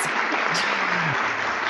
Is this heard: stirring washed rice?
no